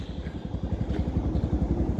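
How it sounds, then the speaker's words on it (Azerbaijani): Motorcycle engine on a manual-transmission bike during a riding lesson, a close, steady chugging beat with rhythmic pulses as the throttle is worked, with no talking. "Motorun səsinə qulaq as."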